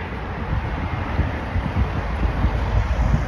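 Wind buffeting a microphone outdoors in a city street, a continuous low rumbling roar with gusty swells and no clear voices.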